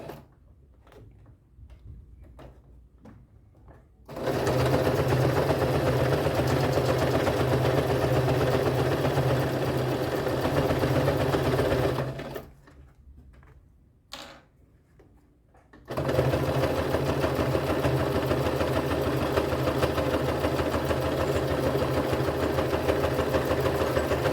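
A sewing machine stitches a clear plastic pouch, running in two long steady bursts of close, rapid mechanical whirring separated by quiet pauses with faint clicks, including a short reverse pass to lock the seam.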